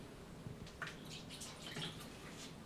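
RV antifreeze poured into a house sink while winterizing plumbing, a faint trickling splash with a few soft drips, quiet and close, no talking.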